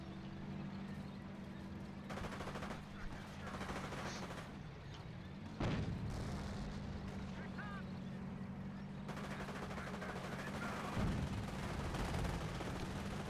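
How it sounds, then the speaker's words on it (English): A Calliope rocket artillery barrage in a World War II tank video game, heard as faint distant rumbling booms and crackling blasts over a steady engine drone. "This is the 3rd Calliope barrage since anything's happened."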